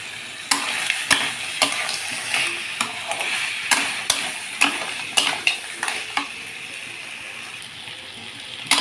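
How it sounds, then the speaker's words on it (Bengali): Crab curry with fried potatoes being stirred and sautéed in a pan, a soft steady sizzle broken by repeated sharp scrapes and clinks of the spatula against the pan, close up and with nobody talking. "এবার আমি ভেজে রাখা আলুগুলো দিয়ে আর একটু কষিয়ে নেব।"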